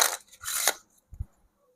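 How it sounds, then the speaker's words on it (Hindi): A deck of playing cards shuffled during a card trick, two quick close riffling bursts followed by a soft tap as the cards settle. "फिर मैं डेक को एक बार शफल कर देता हूँ"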